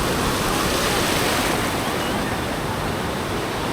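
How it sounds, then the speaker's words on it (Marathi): Rain at Ganpatipule beach on the Konkan coast forms a dense, loud, continuous wash of noise, blending with surf and wind buffeting the microphone. "हा पाऊस सुरू झाला आहे."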